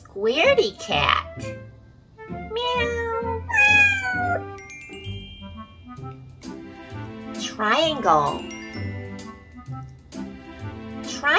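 A cartoon cat gives several sung, bouncy meows over a light children's song about shapes. The meows are loud and close, and a voice sings along with them.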